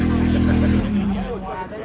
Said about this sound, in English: We got the Corona running.